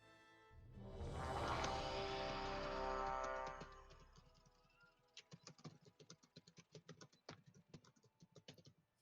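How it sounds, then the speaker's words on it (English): A computer keyboard is typed on in rapid, irregular clicks for several seconds near the end, after a louder swelling sound fades out at the start; no one speaks. "Somebody is typing."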